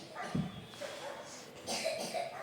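Someone outside coughs once, sharply and a little muffled, amid soft room noise and faint voices.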